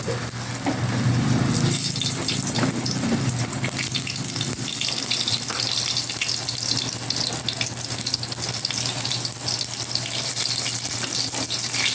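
Eggplant coated in breading mix frying in a pan, a steady close sizzle and crackle with a constant hiss and no pauses or talk.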